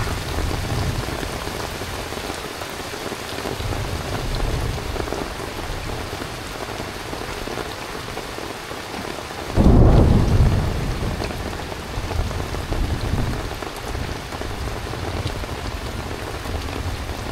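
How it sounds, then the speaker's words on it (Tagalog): Heavy rain pours steadily at a riverside hammock campsite during a thunderstorm, with a loud crack of thunder rumbling in about halfway through before the downpour continues alone. "Kaya napakalakas ng ulan. Thunderstorm lang yan."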